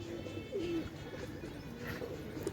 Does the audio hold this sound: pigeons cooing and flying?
yes